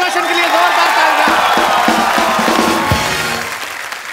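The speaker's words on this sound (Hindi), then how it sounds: "एक बार ऋतिक रोशन के लिए जोरदार तालियां।" Studio audience of a Hindi comedy talk show, The Kapil Sharma Show, cheers and applauds loudly, crowd clapping and whoops under a musical sting with steady tones, the roar holding then tapering off toward the end.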